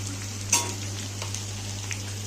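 Ginger garlic paste frying with potatoes and onion in a hot pan, a steady soft sizzle with one brief louder spatter near the start and a low hum underneath.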